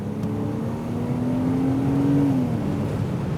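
A mid-engine Porsche Boxster accelerates steadily, its engine drone rising gradually in pitch and then easing off, heard from inside the car at moderate, constant loudness with no talking.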